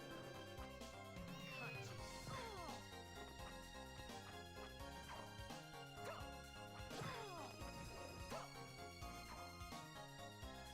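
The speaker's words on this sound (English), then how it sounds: "There's a cat. You can hear it." A cat meows repeatedly in Castlevania: Order of Ecclesia, several short rising and falling cries over continuous game music, with occasional crashing hits in between.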